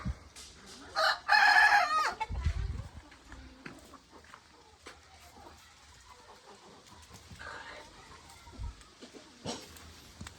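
A native rooster in a chicken coop lets out one loud, close crow early on, followed by scattered quieter clucking and clatter.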